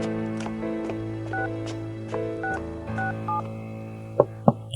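Telephone dialing tones play as a sequence of short keypad beeps over a quiet sustained tonal background, ending with two sharper clicks, and no one speaks.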